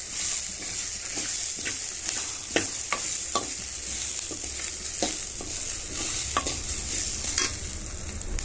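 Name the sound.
sautéing tomatoes in a pan for urad dal chutney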